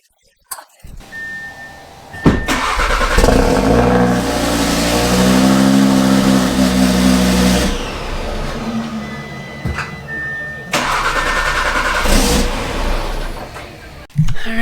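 An Audi RS3 five-cylinder engine idles and revs after the F10 fuel pump fuse is pulled, running out of fuel; the loud, close engine note rises and holds, then stops and restarts briefly, with a voice heard early on.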